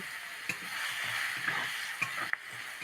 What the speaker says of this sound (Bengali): ওই তেলের মধ্যে আমি এবার পেঁয়াজ কুচি দিয়ে দিচ্ছি